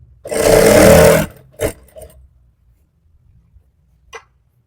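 Sewing machine stitching a salwar belt, one steady loud run of about a second, then a couple of short bursts and a faint brief whir near the end, with no talk.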